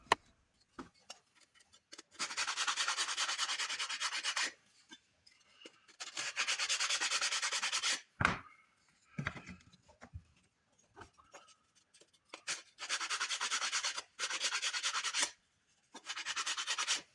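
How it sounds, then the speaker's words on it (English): A pocket planer shaving the edges of a wooden fence picket in repeated rasping strokes, each lasting about two seconds with brief pauses between, close and alone with no talk. "Taking my pocket planer, designed for end grain of course, I will use it wrong here, breaking down the edges a little."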